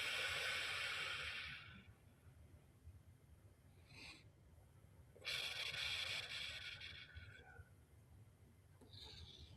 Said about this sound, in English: tell me when to stop shuffling the cards